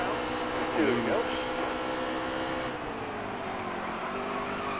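Race car engine in the Nascar Heat 3 racing game drones steadily with rising and falling pitch sweeps as it accelerates, moderately loud under a voice talking.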